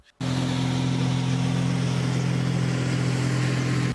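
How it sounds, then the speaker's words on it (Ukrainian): A boat motor on the Danube runs in a steady, loud, buzzing drone that starts abruptly and holds unchanged throughout, with a strong low hum. "Човен заторохтів на Дунаї."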